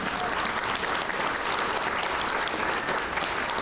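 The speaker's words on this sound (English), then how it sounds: "let's give her another round of applause" Sustained applause from an audience at a career center ribbon cutting, a steady wash of many hands clapping at even loudness throughout, with no break or pause.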